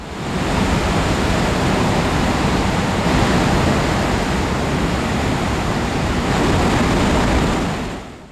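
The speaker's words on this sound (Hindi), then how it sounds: "ये सिक्किम में आए सैलाब का वो शोर है जिसे सुनकर जहन में दहशत पैदा हो जाती है।" Flash flood waters in Sikkim give a constant, loud, dense roar like heavy surf, unbroken for several seconds before easing off at the end.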